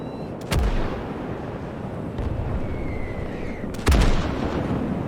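Soviet artillery guns firing in the Call to Arms war game, two heavy booming shots a few seconds apart over a dense rumbling battlefield din.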